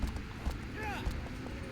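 Agro, the horse from Shadow of the Colossus, gallops with a low, steady clip-clop of hooves under game ambience, while a person talks over the top.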